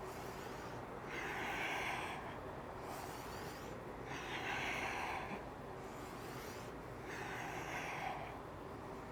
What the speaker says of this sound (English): Breathing nice and deep here.